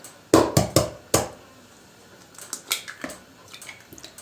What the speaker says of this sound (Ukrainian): беремо миску і вбиваємо неї наші яйця